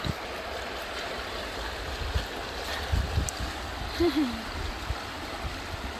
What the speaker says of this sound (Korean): 물소리 듣기 좋다